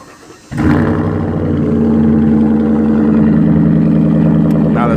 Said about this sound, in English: I'm gonna fire this truck up.